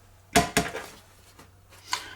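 A frying pan set down on a BCB Fire Dragon cooker gives two quick close metallic clanks, followed by a fainter scrape or knock shortly after.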